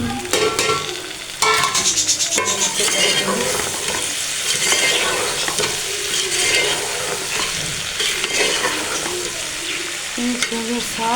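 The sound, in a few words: onion, tomato and green chilli frying in a pan with okra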